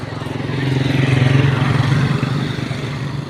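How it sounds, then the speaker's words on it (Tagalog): Motorcycle and tricycle engines rumble steadily at moderate volume, swelling and fading as they pass nearby with a low, throbbing drone. "mga motor ang mga naririnig,"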